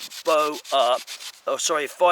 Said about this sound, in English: you can smooth it up on a rock